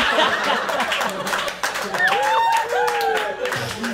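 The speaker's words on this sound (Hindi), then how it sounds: "सारे गंजेड़ी ताली बजाते हैं इस पे बस" An audience at a stand-up comedy crowd-work show claps briefly amid scattered chuckles and laughter, while a performer talks over it.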